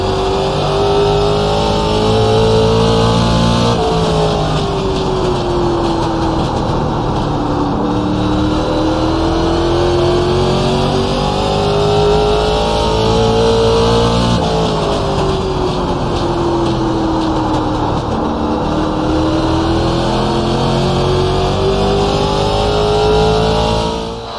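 Race cars from a video game roaring steadily around Stafford Motor Speedway, a short banked oval, with engine tones sweeping up and down continuously and loud as cars pass through the corners.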